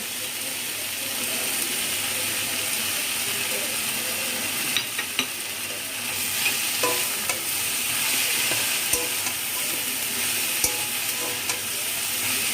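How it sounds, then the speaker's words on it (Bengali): Mixed vegetables sizzle and fry in a pan after cumin and chili powder are added, a steady close hiss with scattered clicks of stirring throughout, no talk. "সবজিগুলোকে 5-6 মিনিট মতো ভেজে নিয়ে এর মধ্যে দিয়ে দিচ্ছি জিরে গুঁড়ো আর লঙ্কার গুঁড়ো"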